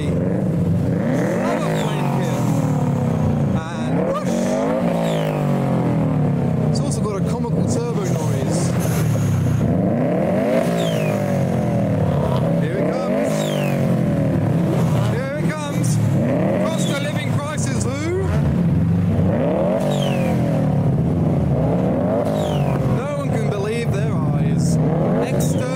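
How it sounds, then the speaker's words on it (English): A Subaru fitted with a flame kit revs repeatedly at a car meet, its engine climbing and falling in loud rhythmic surges over roughly half a minute, with crowd chatter and voices underneath throughout. "our next revving vehicle is a Subaru with a flame kit"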